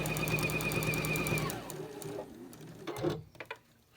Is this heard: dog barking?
no